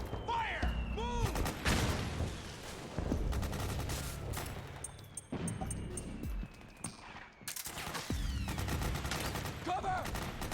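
Gunfire bursts and shots from a Metal Gear Solid 4 battle, loud and repeated across the scene, mixed with shouted soldier calls and game effects.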